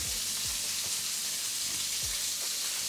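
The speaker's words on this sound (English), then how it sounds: "And it is sizzling." Food sizzles loudly and continuously in a hot frying pan nearby, a dense, steady crackle with a few low knocks from the pan or utensil, and no voices.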